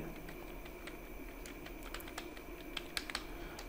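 Keys clatter on a computer keyboard in irregular bursts of typing at a Python console, fairly quiet and close, with a faint steady hum underneath.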